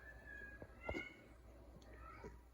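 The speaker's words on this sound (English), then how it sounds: "That is my cat, y'all." A faint cat meows once briefly in a quiet room, with soft background noise and a few light rustles around it.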